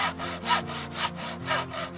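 A hand saw cutting off the excess length of a timber spine during a cold frame repair, with about four steady, evenly paced back-and-forth strokes rasping through the wood, close and clear.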